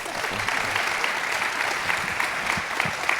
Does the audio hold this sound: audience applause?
yes